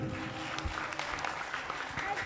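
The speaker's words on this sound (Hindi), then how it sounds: "एक बार सदानंद जी के लिए ताली है" An audience claps for Sadanand ji, honoured for training the performers at a Hindi-language arts event, giving a steady, moderately loud spatter of applause throughout.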